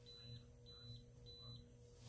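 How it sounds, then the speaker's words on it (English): A Conair Primrose 3-in-1 hair styler gives three sets of short, high electronic beeps spaced evenly apart over a steady low hum, fairly faint with no talking. "when you hear the triple beep,"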